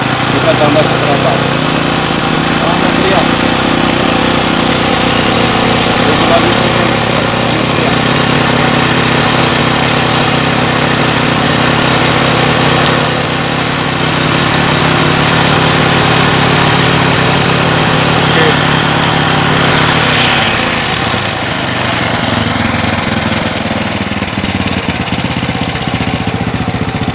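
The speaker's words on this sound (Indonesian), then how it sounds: "Teriak, mulai teriak suara mesin." A motorcycle with a standard carburetor, just adjusted for air mix, idles and revs for a long stretch, a loud buzzing engine note that climbs into a high whine and eases off near the end, with someone speaking over it.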